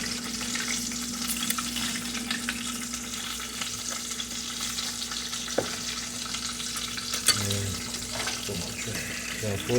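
Seasoned potatoes with Italian seasoning fry in a pan, making a constant, fairly loud sizzle with occasional stirring scrapes and light knocks from a spatula.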